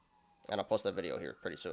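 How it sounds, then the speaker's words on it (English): A faint, steady emergency vehicle siren wails outside in the background, mostly buried under someone talking close to the microphone. "Sorry about the sirens, guys."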